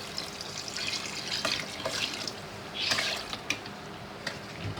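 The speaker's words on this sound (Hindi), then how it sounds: "इसमें हम वही पानी डालेंगे" Water is poured into a cooking pot in a home kitchen, a soft steady splash and trickle, faint and close, with a few brief louder gushes.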